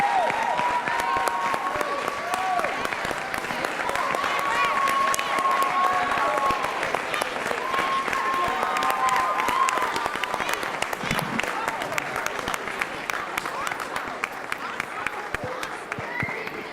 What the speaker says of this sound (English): Can we stand our feet for our young people and give them a round of applause,